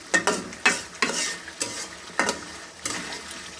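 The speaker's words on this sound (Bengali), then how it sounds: "এতে আস্তে আস্তে কষতে দেখেন" Two pieces of koi fish in mustard paste sautéing in a pan, a soft continuous sizzle broken by repeated scraping stirs of a spatula at a steady, unhurried rhythm, close up and without talk.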